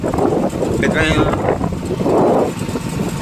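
A motorbike rides along a road, its steady engine rumble mixed with heavy wind buffeting the microphone, while a rider talks over it.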